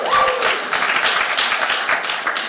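Audience applause fills a talk hall, a dense steady wash of many hands clapping at close range with a brief voice or cheer at the start, holding evenly throughout.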